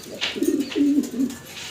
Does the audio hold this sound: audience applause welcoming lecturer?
no